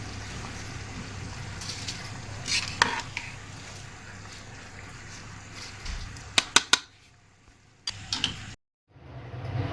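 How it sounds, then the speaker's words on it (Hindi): Rice going into a pot of Mughali chana pulao, stirred with scattered scraping clinks of a spoon against the metal pot and a few sharp knocks over a soft steady background hum. "अब इस टाइम पे इसमें हम चावल डाल देते हैं।"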